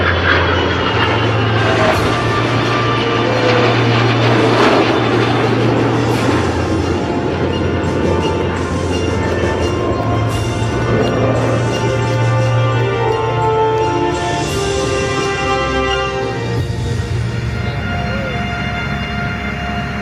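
A P-51 Mustang leads a heritage formation flight over an airshow, its piston engine drone and the roar of the accompanying aircraft filling the air in a loud, steady rumble that swells and shifts for the full twenty seconds.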